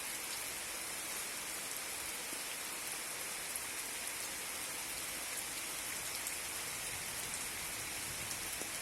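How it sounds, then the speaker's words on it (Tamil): Steady rain falls across a field of black gram, a dense, even hiss of drops with faint scattered patters, continuous and unbroken with no voices. "இந்த மழை அருமையான மழை, உளுந்துக்கு தேவையான மழை பெய்து கொண்டிருக்கிறது"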